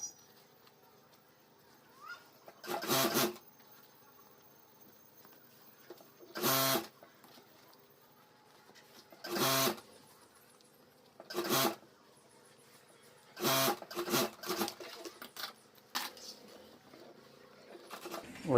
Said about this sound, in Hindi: यहाँ मैं सिलाई कर देता हूँ